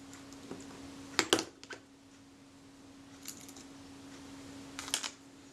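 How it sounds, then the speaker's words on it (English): Two screws being backed out of the strap lug on a Kodak Retina Reflex camera body: a few small, sharp metallic clicks and scrapes from a screwdriver, close up and spaced apart over a faint steady hum. "so I'll take off the strap lug. Two screws."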